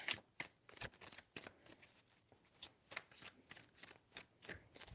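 Cards being shuffled repeatedly, crisp riffling flutters in quick bursts with short pauses between them, close and fairly quiet.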